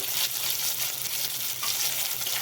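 Pre-fried potatoes tossed into a frying pan with tomato and ground cumin paste give a dense, steady hissing sizzle, close and even throughout, without speech.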